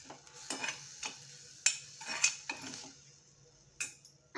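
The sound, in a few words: stirring sprouted fenugreek vegetable dish in a pan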